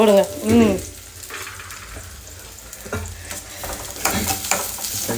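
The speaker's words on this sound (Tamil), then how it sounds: "அப்படியே ஃப்ரை பண்ணுவோம்." Small shallots sizzle as they are stirred while frying in a pan for a curry, with soft scrapes of the spoon and light speech at the start.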